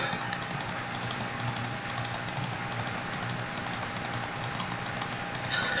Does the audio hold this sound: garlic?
no